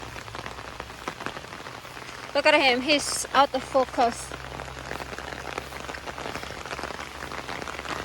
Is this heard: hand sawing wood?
no